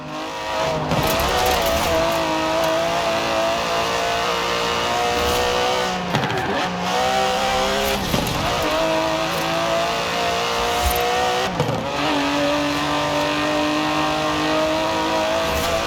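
An Aston Martin DB11 with a 5.2-litre twin-turbo V12 roars through Forza Horizon 4, engine revving high and steady with rising and falling pitch as it shifts gears, loud and close, no voices.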